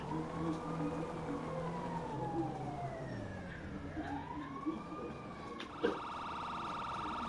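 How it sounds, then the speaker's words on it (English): An ambulance siren wails in long rising and falling sweeps as it passes, moderately loud and distant, ending with a brief clatter and a steady tone. "There goes the ambulance to go see about their people"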